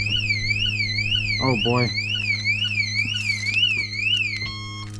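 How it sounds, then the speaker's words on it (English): A workshop alarm wails in a steady, looping electronic siren pattern, loud and close, while a voice briefly speaks over it. "Forgot to turn off the alarm."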